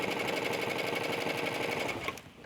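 A sewing machine runs in a fast, even stitching whir while sewing down a piece over cording for an eyeglass case. The sound is loud and close and stops abruptly near the end, with no voices.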